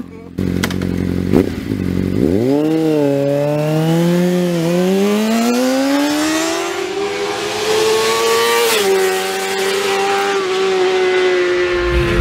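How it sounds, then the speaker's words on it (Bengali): A motorbike engine starts and revs up, its pitch climbing and wavering as it accelerates, loud and close for several seconds. "গণেশ বাবাজি ওর বাইকটা কফি শপের পার্কিং লটে পার্ক করে"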